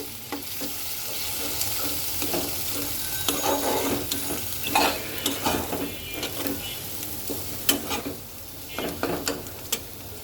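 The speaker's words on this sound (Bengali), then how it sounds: "ডিমটা দেওয়ার পর দিয়ে দেব সামান্য একটু লবণ এবার সব কিছু একসাথে সুন্দর করে মিক্সড করে দেবো" Noodles with egg, salt and vegetables including carrot, cauliflower, cabbage and beans are stirred in a pan, a steady close sizzle broken by scraping, clinking utensil strokes at an uneven pace.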